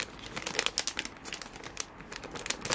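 Crinkly plastic Tsum Tsum squishy packet being torn open by its easy-open tab, a busy run of close crackling and rustling for nearly three seconds with no voice.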